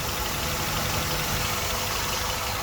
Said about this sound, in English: She idles good, no problems.